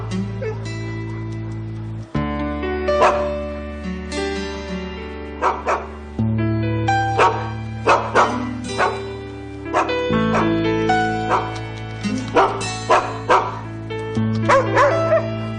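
Several dogs bark and yip in quick repeated bursts, some whimpering between, loud and close over a sustained musical tone.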